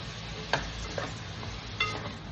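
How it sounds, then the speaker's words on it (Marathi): Marinated prawns cook in masala in a pan, giving a soft sizzle under a faint background hum, with two or three brief spatula clinks or scrapes, fairly quiet and close, with nobody talking. "आता आपण त्याच्यामध्ये कोलंबी ॲड करूया, जी मॅरिनेट केली होती. आणि तिची चांगली परतून घेऊया"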